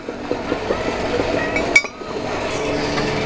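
An aluminium cylinder head from an Opel Vivaro 2.5 is turned over on a bench, giving scattered metallic knocks and light clinks followed by one sharp clang, close by, with no voices.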